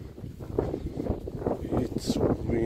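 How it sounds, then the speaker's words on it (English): Gusty wind buffeting the microphone in uneven rumbling bursts, loud and close, with a brief hiss near the end. "It's getting quite windy up here."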